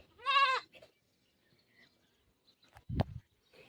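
Goats on a farm give a short, clear bleat near the start, followed by quiet stretches and a brief dull knock later, with no talking.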